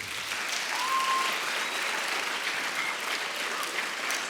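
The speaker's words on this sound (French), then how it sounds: "je crois que vous pouvez les applaudir" Sustained applause from a church congregation at a youth investiture ceremony in Collonges-sous-Salève, a steady dense wash of clapping with a few faint whistles over it.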